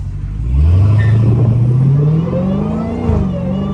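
A straight-piped Dodge Hellcat revs hard and loud up close, its deep exhaust roar climbing steadily in pitch and holding a sustained, rumbling drone with a brief jump near the end.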